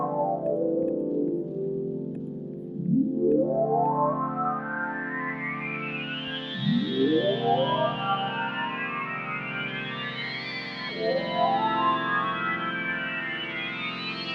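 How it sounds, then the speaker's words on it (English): A Behringer Wave synthesizer plays a rich, buzzy patch of sustained tones, with three bold rising pitch sweeps gliding upward every few seconds at steady loudness, with no voices. "that's the BEHRINGER Wave"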